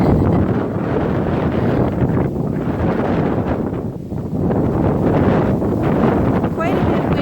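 Strong wind buffets the microphone in front of a house, a loud, continuous rumbling roar with gusty swells and brief dips, filling the whole stretch.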